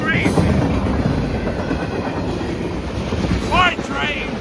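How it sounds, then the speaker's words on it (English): A train rumbles past with a continuous clattering roar, heavy wind noise buffeting the microphone during a thunderstorm, and a couple of high squeals near the end. "Bye, train."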